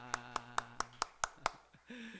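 Congregation clapping together during a Sunday morning church service, seven sharp, evenly spaced claps in a steady rhythm, ending with a brief voice.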